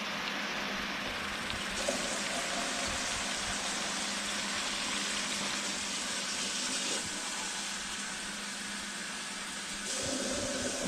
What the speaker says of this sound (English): I'm gonna put some water in here though.